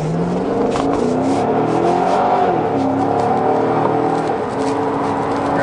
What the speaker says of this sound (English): He's going to take us for a lap around this 7/8 mile track at Iowa Speedway.